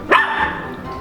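A single sharp dog bark sounds up close at the start, its tail ringing briefly before fading into quiet room tone.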